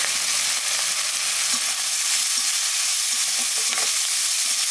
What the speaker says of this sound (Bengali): মাছ ভাজা হয়ে গেছে, এখানে দিয়ে দেবো কাঁচা লঙ্কা।